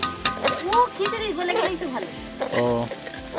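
Khichuri bubbles and sizzles in a pot while it is stirred, a close frying crackle with scraping strokes, heard under people talking.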